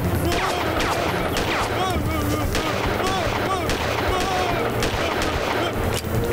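Loud, rapid cartoon gunfire sound effects in a Tamil children's cartoon, a dense volley of shots and ricochet-like whistles running continuously over a music bed, with voices mixed in.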